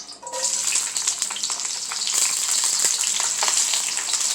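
Onion and garlic hit a pan on medium-high heat and stir-fry with a loud, close, continuous sizzle that swells after a couple of seconds, with a few utensil scrapes and no talking.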